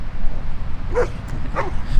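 Two short dog barks or yips at a beach near the ocean at sunset, spaced about half a second apart over steady wind and surf noise.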